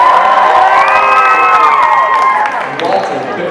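Students at a high school election assembly cheer and shout together, a loud dense burst of young voices with whoops that swells and then eases off within a few seconds.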